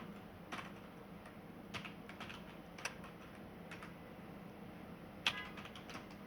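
Someone typing a short subject line on a computer keyboard, faint scattered key taps with one sharper click near the end, over a steady low room hum.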